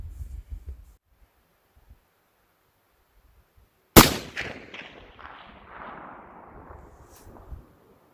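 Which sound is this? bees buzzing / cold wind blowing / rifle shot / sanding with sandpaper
rifle shot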